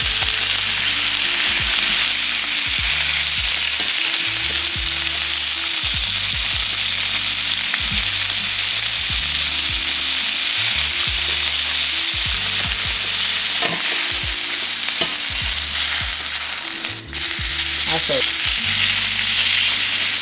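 A chuck roast sears in hot oil inside a pot, giving a loud, continuous sizzle and crackle that lasts twenty seconds, with a low rhythmic knocking underneath and no voices.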